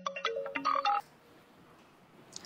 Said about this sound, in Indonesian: Jadi saya telepon Elsa aja deh